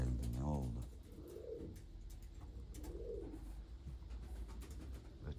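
Pigeons coo repeatedly in a rooftop loft, a deep throaty cooing burst near the start followed by two softer coos, with faint background voices and ambient noise.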